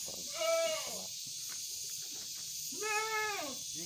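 Etawa goats at a goat farm give two clear, drawn-out bleats, the first about half a second in and the second near the end, over a steady background hiss.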